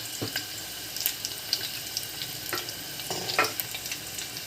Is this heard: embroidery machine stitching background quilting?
no